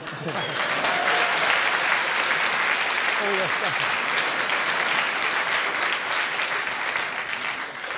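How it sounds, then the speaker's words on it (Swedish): A studio audience applauds steadily and loudly throughout at a 1997 Swedish comedy show, dense clapping with a faint murmur of voices underneath. "Här applåderar de det minsta lilla"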